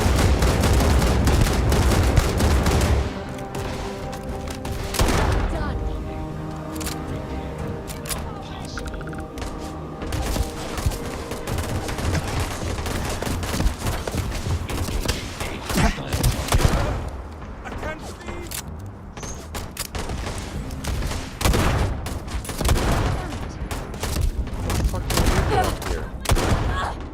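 Gunfire in the video game Starfield crackles in dense volleys and scattered bursts throughout, loud and close, with thuds mixed in and a voice talking over the shooting.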